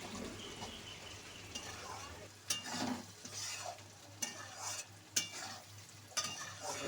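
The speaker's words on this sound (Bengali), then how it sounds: "একটু কষিয়ে নিচ্ছি" Spices and vegetables being sautéed in a pan, with intermittent scraping stirs and soft sizzling, fairly quiet and close.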